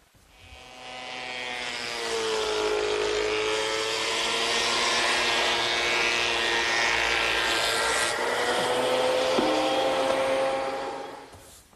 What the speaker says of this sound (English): the pile of sawdust that I created while planing about 40 pieces of wood for my table